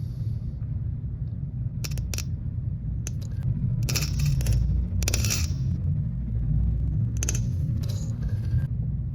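Battery leads from an M12 battery sparking against the contacts of an EVAP canister vent valve: several sharp, crackling bursts in irregular clusters over a steady low rumble, close and fairly loud, with no click.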